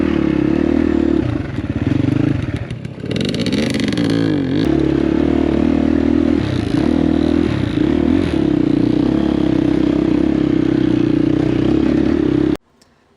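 Dirt bikes on a high-altitude off-road trail hill climb, engines roaring loud and close with sustained revving and brief throttle surges over clattering and scraping, cutting off abruptly near the end.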